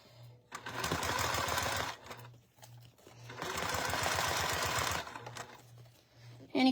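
A sewing machine stitching clear PVC vinyl runs in two bursts of rapid, even mechanical clatter, each about a second and a half long, close and loud, with quiet pauses between them.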